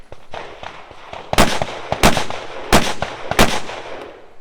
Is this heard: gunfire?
yes